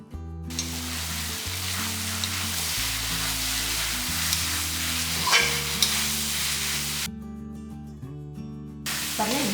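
Pieces of raw jackfruit sautéing in a hot pan for a spicy dry fry, giving a steady close sizzle with stirring scrapes throughout, over quiet background music.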